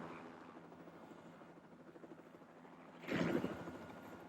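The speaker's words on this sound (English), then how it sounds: "the helicopter sets off for Fort William Hospital" A Westland Wessex helicopter drones at a distance over Glencoe, Scotland, its rotor chop steady and muffled, then grows briefly louder near the end.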